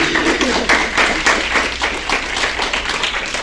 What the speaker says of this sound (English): You can give him a round of applause for that.